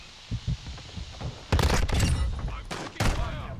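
Heavy shotgun blasts in Call of Duty: Modern Warfare, a few loud booming bursts with echoing tails after quieter thumps and faint game noise.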